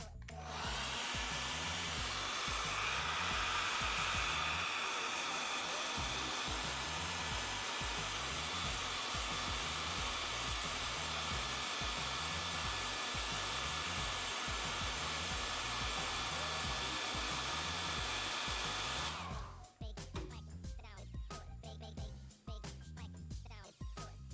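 A heat gun blows steadily while heating the display electrodes of a Huawei Mate 20 Lite during an LCD replacement, a constant close whooshing hum that cuts off near the end, leaving quieter handling sounds.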